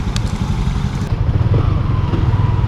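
A group of four motorcycles rides at night in Angono, Rizal. Their engines give a loud, close, pulsing rumble with a throbbing low beat and a brief rise in revs.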